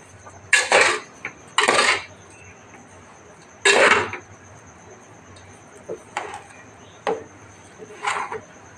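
Powdered sugar flavoured with cardamom being stirred in a bowl for coconut pole: a few loud scraping bursts early on, then softer, sparse clinks and scrapes, with no talk.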